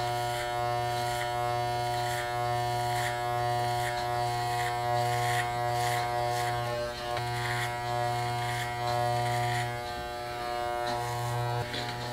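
Electric hair clippers fitted with a one guard buzz steadily and close while blending a bald fade, a continuous droning hum with faint dips as the blade moves through the hair.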